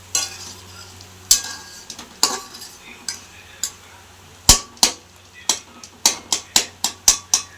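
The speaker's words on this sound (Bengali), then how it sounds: "দেখো টমেটো চাটনিটা ফুটে উঠেছে, বেশ কিছুটা সময় ধরে ফুটবে।" A spoon scrapes and knocks against a pan while stirring simmering tomato chutney, a series of sharp, irregular clinks that come quicker toward the end over a faint bubbling hiss.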